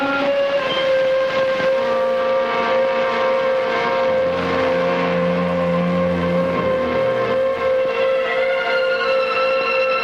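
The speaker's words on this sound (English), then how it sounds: "They'll wind their sirens up so as not to hit any old ladies at crosswalks" Police car sirens wind up over a sustained mechanical drone, a steady rising-and-holding wail that stays loud throughout with no talk.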